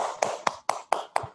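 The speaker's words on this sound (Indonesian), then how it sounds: "Kita tepuk tangan terlebih dahulu." Rhythmic clapping at an executive handover ceremony in Indonesia, six crisp, evenly spaced claps in quick succession, close and fairly quiet, with no voices.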